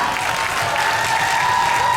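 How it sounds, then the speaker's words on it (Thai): Audience applause for an actor at a film premiere event, a steady dense clapping from a crowd that continues without a break. "ปรบมือดังๆคุณมาริโอค่ะ"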